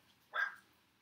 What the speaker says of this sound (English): It's not my dog. That is my neighbor's dog.